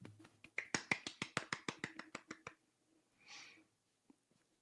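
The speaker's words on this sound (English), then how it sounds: "Golf clap for him." A slow golf clap of about fifteen soft, evenly spaced claps from a small group, tapering off, followed by a brief murmur and a couple of faint taps.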